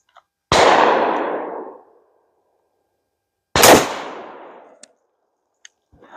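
Two loud, close shotgun blasts from a Mossberg Maverick firing Federal Flite Control 00 buckshot outdoors, each a sharp crack with a long decaying echo, about three seconds apart, followed by a few faint clicks.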